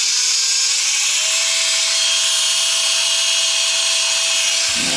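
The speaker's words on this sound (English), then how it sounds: "I'm going to start by grinding out 2 indentations where the eyes would be with a grinding sander" A Dremel fitted with a grinding sander bit grinds into a wooden doll's head, carving eye indentations; a loud, steady high-pitched whine runs throughout, rising slightly in pitch early on, close and alone with no talk.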